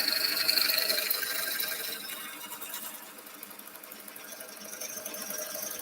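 A lathe tool cuts into a spinning wooden bowl, giving a continuous high, squealing scrape up close that swells and eases as the cut moves along, with no talking.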